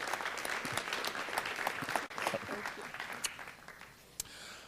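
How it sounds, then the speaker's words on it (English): An audience at a city council meeting applauds in a close, lively round of clapping with a few individual sharp claps standing out, tapering off near the end. "Give her a nice round of applause"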